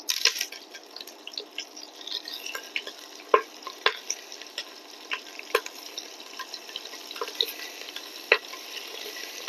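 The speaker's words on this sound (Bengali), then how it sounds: "চিংড়ি মাছগুলো আমি একটু ভেজে নিব" Marinated prawns frying in a pan, a crackling spatter of sharp pops and sizzles at close range, with frequent irregular bursts and no talk.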